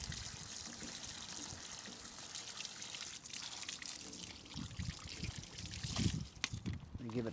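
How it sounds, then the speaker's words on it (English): Water trickles and splashes across a window being rinsed after concrete has been dissolved from the glass, a steady close wash with a louder burst and some handling knocks toward the end. "at that point, we give it one more good rinse here."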